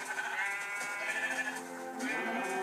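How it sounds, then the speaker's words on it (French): Several sheep bleat in the Minecraft video game, their overlapping wavering calls steady and close for nearly three seconds with no talking. "Il y a beaucoup de moutons."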